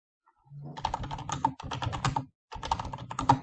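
Typing on a computer keyboard: quick bursts of close, crisp key clicks in two runs separated by a brief pause.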